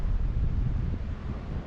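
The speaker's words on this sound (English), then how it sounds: "Very, very windy up here." Strong wind on a mountain stretch of the Appalachian Trail roars and buffets the microphone in a continuous low rumble, loud and close, with no voices.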